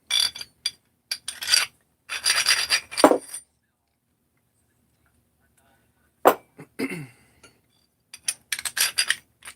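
Scraping and rasping strokes from hand deburring of metal parts fresh off the mill, arriving in short close bursts with a pause in the middle.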